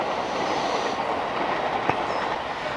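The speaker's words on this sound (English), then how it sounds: "I'd forgotten about the trains going past." A train passes steadily nearby behind a garden where wildflower seeds are being sown, a continuous rumbling wash with faint clickety-clack and a brief wheel squeal, no talk.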